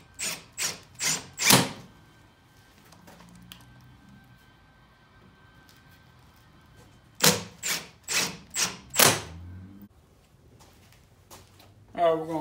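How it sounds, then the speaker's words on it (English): Wooden boards being clamped together while building a quail chick brooder, heard as two quick series of four or five sharp, close ratcheting clamp squeezes separated by a quiet gap with faint handling noise. "we're gonna go ahead and get the ends on now. Doing the same way, I'm just using my clamps."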